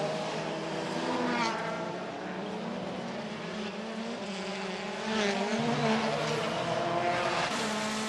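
Touring race car at speed in a wet WTCC race on the streets of Marrakech, heard from onboard: a steady, loud engine drone with gear changes and heavy spray noise throughout.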